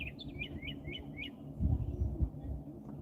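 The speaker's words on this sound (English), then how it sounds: "go out and sit outside and listen to the birds" Outdoors, a bird chirps a quick series of about six short tweets over a low background rumble, fairly faint and at a distance.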